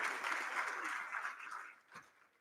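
Audience at an entrepreneurs forum applauds with dense, steady clapping that fades toward the end, with a faint voice near the close.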